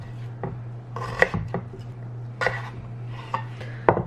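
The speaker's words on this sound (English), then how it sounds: "So we're just gonna cut these into fry shapes." A knife strikes a cutting board while slicing vegetables into fry-shaped sticks, a handful of crisp close chops spaced unevenly over a low steady background hum.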